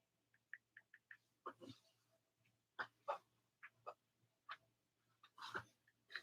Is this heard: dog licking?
yes